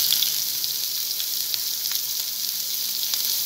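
Cumin, carom seeds and chopped green chillies roast in hot oil in a frying pan, giving a steady close sizzle with faint crackles for a few seconds, and no one speaks.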